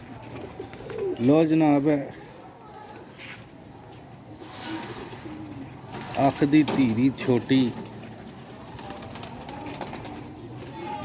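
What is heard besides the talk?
pigeons cooing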